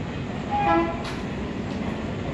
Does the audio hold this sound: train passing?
yes